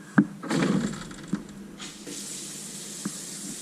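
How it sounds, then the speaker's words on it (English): A few quiet knocks and clunks, then a hot-water kitchen tap opens and a soft, steady stream of water runs into a stainless-steel sink. "let me turn the hot water on"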